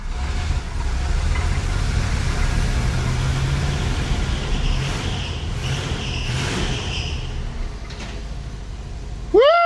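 A 1976 Mercury Marquis engine idles steadily after its stuck carburetor is freed, a low continuous rumble close by with faint clunks, ending in a short sharp squeal.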